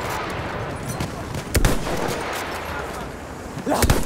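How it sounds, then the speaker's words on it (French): Machine gun fire in the World War I shooter Battlefield 1: bursts of gunfire at moderate distance, with a couple of sharper nearby shots standing out over steady battlefield noise. "Attention, mitrailleuse!"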